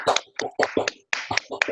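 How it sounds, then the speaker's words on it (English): Roughly eight sharp, separate hand claps come from a single person on a webinar call, close and dry with brief gaps between them. "Big clap."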